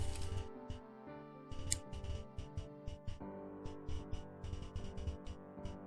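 Scissors snipping through felt for a Christmas stocking, a string of close, crisp cuts in quick irregular bursts over a quiet background, with no talking.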